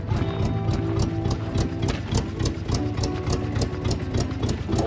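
A Chevy K5 Blazer's swapped LS V8 idles rough on old, stale fuel, a steady loud engine drone with an uneven, lumpy pulse throughout.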